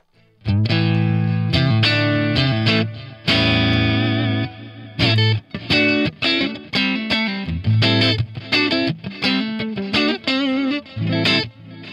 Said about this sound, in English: Sometimes you can use the delay, in a short delay like this.